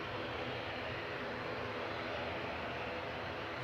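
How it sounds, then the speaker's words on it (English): Distant KLM airliner taxiing out toward the runway at Manchester Airport, a faint, steady broadband engine rumble and hiss holding constant throughout with no voices. "So taxiing out to the runway is the Sky Team KLM."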